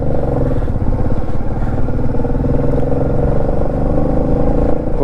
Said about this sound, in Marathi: वरून गाड्या एकदम जोरमध्ये येतात.